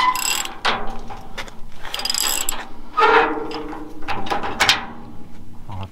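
A trailer's jack is hand-cranked up and down in a series of close, loud ratcheting clicks and grinding metal bursts. The bursts come in irregular spurts, separated by short pauses.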